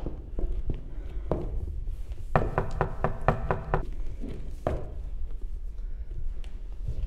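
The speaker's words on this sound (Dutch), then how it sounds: "se toca la puerta" A quick run of about six sharp knocks on a door sounds at close range, set among scattered softer taps and shuffling in a quiet room.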